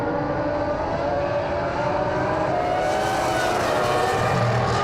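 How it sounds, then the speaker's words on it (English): A Red Bull RB20 Formula 1 car accelerates hard past another car on track, its high engine note rising in pitch, loud and continuous under steady track noise. "Just huge acceleration and power from his car."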